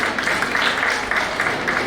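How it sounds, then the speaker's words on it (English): Steady, dense applause from an audience at a business school honour ceremony, greeting the chief guest, held at an even level throughout without a voice over it. "Can we have a round of applause for him?"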